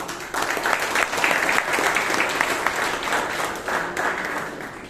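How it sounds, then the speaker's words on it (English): Steady, sustained applause from a Toastmasters club meeting audience in Bangalore after a table topics session, even and moderately loud throughout with no voices over it. "a round of applause for the engaging session we had"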